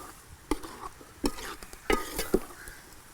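Prawns with ground spices are stir-fried in a pan for a Kerala-style chemmeen varattiyathu, a soft sizzle broken by four distinct scraping stirs of a spoon against the pan, close and with no one talking.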